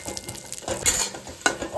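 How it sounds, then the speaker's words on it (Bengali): Dry fruits fry in ghee in a pan with a soft close sizzle, punctuated by stirring scrapes and a couple of sharp utensil knocks. "ফ্রুটস যেগুলো আছে সেগুলোকে এবার ঘিয়ের মধ্যে একটুখানি ভেজে নেব।"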